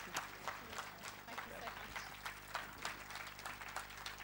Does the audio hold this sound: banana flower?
no